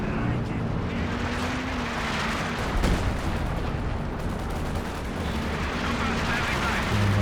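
Katyusha rocket artillery barrage in Company of Heroes 2, a dense continuous roar of launches and explosions filling the clip, with a louder burst near the middle, set in a 2v2 multiplayer battle.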